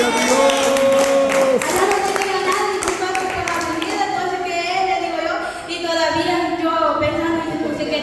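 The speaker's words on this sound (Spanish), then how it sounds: "Denle una ofrenda de palmas a Dios." A church congregation claps together as an offering to God, the claps blending with sustained singing or music and voices throughout.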